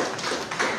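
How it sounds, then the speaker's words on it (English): A brief burst of applause fills a hall honouring the Gambia team captain, a dense, steady patter of many hands at moderate loudness. "Can we have a round of applause?"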